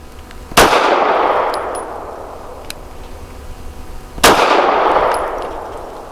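A Taurus GX4 pistol fired at the range, two sharp, loud, close shots several seconds apart, each ending in a ringing tail, with faint clinks between them.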